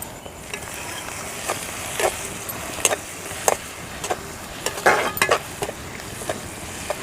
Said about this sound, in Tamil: இப்போ இந்த பூண்டை அந்த வெங்காயத்து கூட போட்டு நல்லா வதக்கிடலாம்.